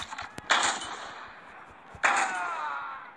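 Gunfire in a video game: two sharp shots about a second and a half apart, each followed by a short lingering crack, fairly faint and with no talk over them.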